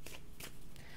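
A deck of cards being shuffled during a reading, heard as a few quick riffling bursts close to the listener with no talk over them.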